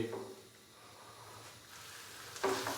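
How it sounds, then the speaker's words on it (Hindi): Chicken gizzards frying in a pan over a high flame, a soft steady sizzle with faint stirring scrapes and a brief louder burst near the end. "फ्लेम थोड़ा सा हाई कर देंगे और 4 से 5 मिनट के लिए इसको भून लेंगे।"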